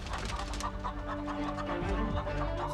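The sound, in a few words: chickens clucking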